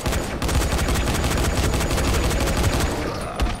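Assault rifle fire from the PS4 game Dying Light The Following rattles in a loud, continuous rapid burst lasting several seconds.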